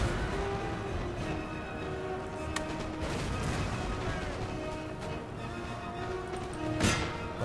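Artillery and musket fire roar through a Napoleon: Total War battle, a dense continuous din with a couple of sharper booming cracks standing out.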